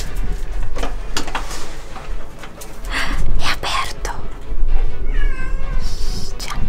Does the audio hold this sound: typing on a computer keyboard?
no